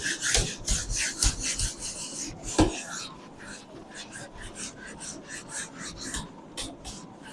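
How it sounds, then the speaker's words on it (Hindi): An eraser scrubs pencil marks off graph paper in quick rasping back-and-forth strokes, close and moderately loud at first, then lighter, steadier rubbing continuing to the end. "अब पहले मैं इस चीज को रब कर देता हूँ यहाँ से।"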